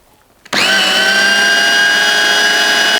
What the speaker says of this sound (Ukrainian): Та ще раз все перемішуємо на блендері.